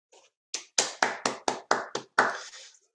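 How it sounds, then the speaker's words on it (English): Applause coming through a Zoom video call, heard as about eight separate, sharply clipped claps in quick succession, each cut off abruptly by the call audio, with brief silences between them and no talk. "Claps over Zoom always sound a little bit funny,"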